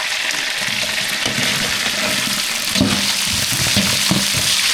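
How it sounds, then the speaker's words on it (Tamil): Mustard seeds, cumin, green chili and onion sizzle in hot oil, a steady broadband frying hiss with soft crackles and a few louder pops near the end, close and continuous with no talk. "எண்ணெய் நல்லா சூடாயிடுச்சு கடுகு சேர்த்துக்கலாம் கூட ஜீரகம் சேர்த்துக்கலாம் பச்சை மிளகாய் வெங்காயம் இது ரெண்டையும் சேர்த்துக்கலாம்"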